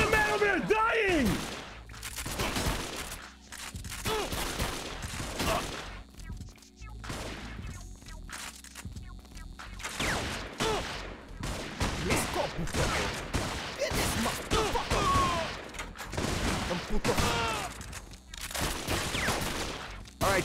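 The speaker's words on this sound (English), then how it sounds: "They're fucking shooting him." Gunfire in the video game 50 Cent: Bulletproof, repeated loud bursts and rapid shot volleys throughout, close and dense, mixed with occasional game noise.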